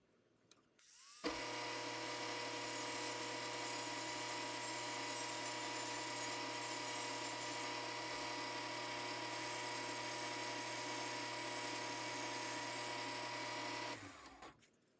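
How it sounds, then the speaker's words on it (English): A handheld Dremel rotary tool spins a grinding stone inside the bore of a brass case, giving a steady, loud high-pitched whine with a grinding edge that runs unbroken for about thirteen seconds before stopping. "I'm going to try freehanding with a Dremel in stone."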